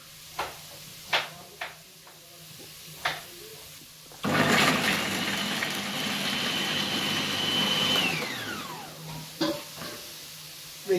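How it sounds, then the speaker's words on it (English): A food processor mincing garlic runs steadily for about four seconds, a loud continuous whir that starts abruptly and winds down with a falling pitch, with quieter clicks and taps before and after. "the same food processor, we will be adding some garlic and mincing them also for the mix"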